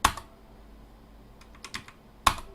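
Several keystrokes on a computer keyboard while typing a chmod command: a sharp tap at the start, a quick cluster of clicks around the middle and a firm final press, close and isolated.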